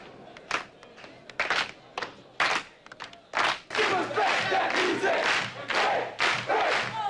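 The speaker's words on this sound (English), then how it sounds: "the crowd starts spontaneously clapping and singing" A film crowd breaks into spontaneous, out-of-time clapping and singing after the music cuts off, with bursts of claps and voices that build into a loud, dense stretch of cheering and chanting.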